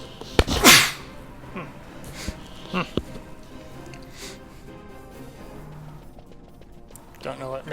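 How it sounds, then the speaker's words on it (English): A single sharp human sneeze bursts out near the start, loud and close, followed by quieter shuffling and small background noises. "Don't know what made me sneeze just then"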